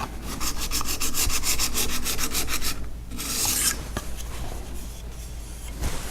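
A steel card scraper is rubbed back and forth on a diamond sharpening plate to take off the burr, giving a steady run of close, rhythmic rasping strokes, then a short pause and a few softer passes.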